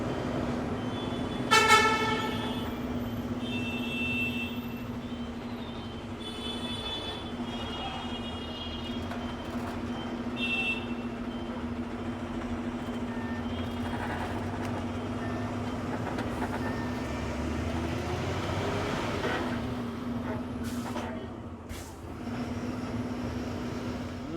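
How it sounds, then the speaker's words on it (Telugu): Congested road traffic in Odisha, India, with buses, cars, trucks and rickshaws, heard as a steady engine drone punctuated by several horn toots, one prominent blast near the start and scattered honks later. "ఈ రోడ్లో చూడు ట్రాఫిక్ జామ్ ఎట్లుంటుందో"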